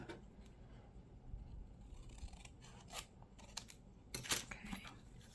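Several sharp snips of scissors trimming, irregularly spaced and fairly quiet, over a faint background rustle.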